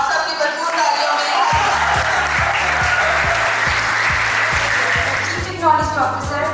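Steady audience applause at a BS computer science final-year project exhibition, filling the whole stretch at full strength while loud rhythmic music with a booming beat plays underneath.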